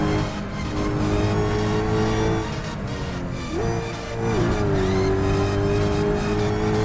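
A Chrysler 300 Hellcat in the Assetto Corsa racing game, its engine droning loud and steady with a shift around the midpoint, dipping and then climbing back to a sustained high drone.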